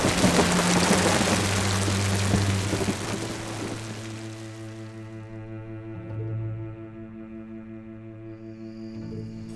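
Rain falls outdoors during an exterior film shoot, a dense hiss at first that thins out, while a low steady hum and tonal drone carry on underneath, no speech.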